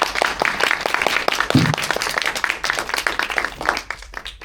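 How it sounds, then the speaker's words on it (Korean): An audience applauds at a gathering, a dense burst of many hands clapping, loud and close, sustained through most of the stretch before thinning near the end. "두 분 말씀해 주셨기 때문에 한 번 더 박수 부탁드립니다."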